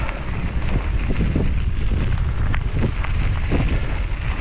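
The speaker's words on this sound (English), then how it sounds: "Oh, that wind is not warm." Cold wind blows hard beside a train, with a loud, continuous, rumbling buffeting roar across the microphone and no voices.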